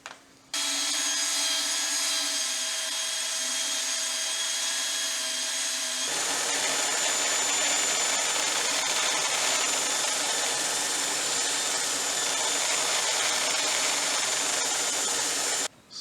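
A power sander works a live-edge apple wood bowl with 60-grit abrasive, making a loud, steady whirring grind that runs for the whole stretch and shifts to a rougher, fuller tone partway through.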